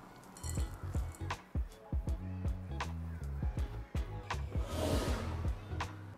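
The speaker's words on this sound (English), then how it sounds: "Now add the chocolate chips. Give it a good stir to make sure they are evenly distributed." Spoon stirring chocolate chips into almond flour cookie dough in a bowl, soft thick squishing strokes mixed with light clinks against the bowl, steady and close.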